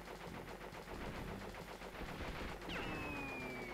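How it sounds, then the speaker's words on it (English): Enemy gunfire in the PS1 game Crash Bandicoot: Warped comes as rapid, dense machine-gun bursts at a faint level, followed by a rising whistling tone near the end. "He definitely tried to shoot me."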